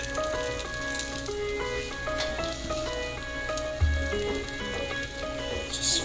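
Beaten egg for an omelette in a frying pan: a soft, continuous sizzle and crackle at moderate level, with light background music.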